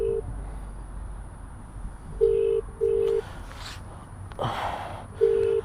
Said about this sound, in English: That Android sound effect for this iPhone.